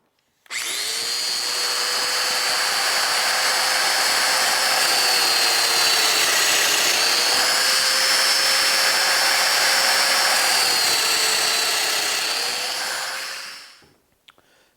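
A domino joiner cuts wood for the sections of a vanity cabinet, giving one continuous high-pitched motor whine that runs steadily for about thirteen seconds with slight pitch dips, then spins down. No voices are heard.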